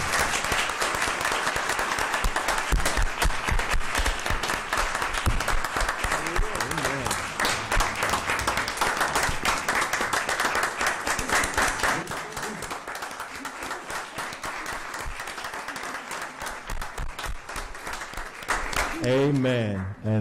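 At a school board of trustees meeting, an audience gives a sustained round of applause for district principals, with dense clapping that lasts about twenty seconds and is briefly followed by a voice near the end.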